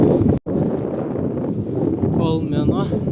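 Strong wind buffets the microphone during a bicycle ride around the Baltic states. A constant loud rumble with one brief dropout continues throughout, and faint higher whooshing appears near the end.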